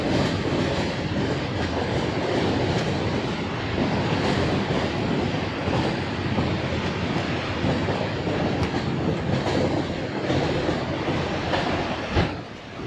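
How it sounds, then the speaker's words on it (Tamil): A train in Switzerland rolls steadily past at close range, a loud continuous rush of wheels and carriages with faint clickety-clack, without speech. "ஒரு ட்ரெயின் வருது பாரு"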